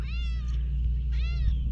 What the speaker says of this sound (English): There's Mama Cat